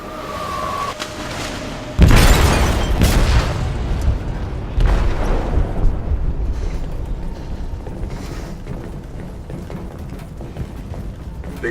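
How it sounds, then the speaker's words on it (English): In the video game Detroit: Become Human, an explosive detonates in a ship's hold as a sudden loud boom, followed by a long rumbling decay, creaking metal and further thuds. "They detonated an explosive in the hold."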